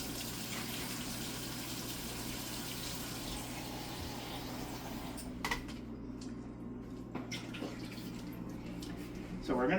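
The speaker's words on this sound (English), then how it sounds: "So let's start off by getting some water." Tap water runs into a pot for making syrup, a steady gushing pour under a low background hum, with faint speech-like sounds near the end.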